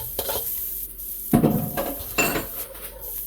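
Fresh garlic hitting a hot pan for pepper steak, a soft sizzle under sharp metallic clanks and scrapes of a utensil against the pan, with a few louder bursts of stirring.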